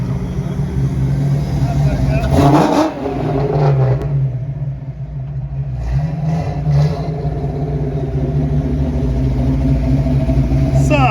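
A custom project car cruising at night, its engine droning loud and steady from inside the cabin with a rev swell partway through, while people talk over it.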